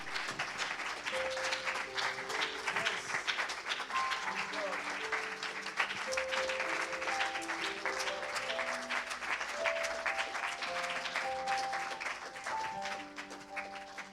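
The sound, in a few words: congregation clapping for the Lord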